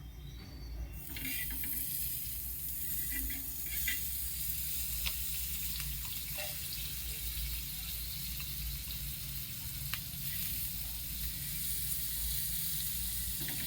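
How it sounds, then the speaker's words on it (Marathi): A sandwich toasts in butter in a pan with a constant close crackling sizzle. A few faint clicks and scrapes sound over it, and there is no speech. "याला आलटून पलटून आपण छान शेकून घेणार आहे खालच्या बाजूला आपण बटर टाकलंच होतं"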